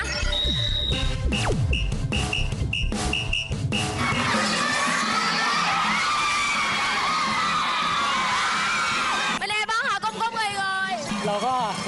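Children shout and cheer loudly for the pink team at a school sports day, a dense crowd of young voices with sharp bangs early on, then continuous yelling and whoops, with talking mixed in.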